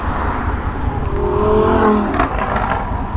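A McLaren sports car passes along a mountain highway with its engine revving, a rising whine swelling to a peak near the middle before fading, heard amid steady road and wind noise from a moving motorcycle.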